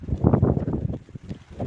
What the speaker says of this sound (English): And now we've got a bit of wind.